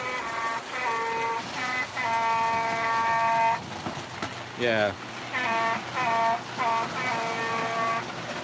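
A toy model train engine's horn blowing in repeated uneven bursts, its tones wavering out of tune, with a brief voice in between and a short sliding squeal midway.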